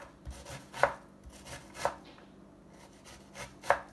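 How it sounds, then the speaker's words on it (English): A knife chops an onion on a cutting board for a fine dice, giving four or five crisp, close knocks spaced unevenly over soft rubbing between cuts. "And I'm making a fine cut."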